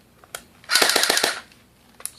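A short, rapid burst of fire from an electric airsoft MP5 on a 7.2 volt battery, a quick rattling string of shots lasting about half a second, with faint clicks before and after.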